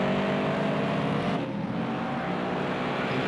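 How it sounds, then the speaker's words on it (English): A Toyota 86 race car brakes hard into a tightening right-hand corner, its engine note dropping as it downshifts. The engine drones steadily up close, loud, with no pause. "Hard braking again for a right-hander that starts and tightens up."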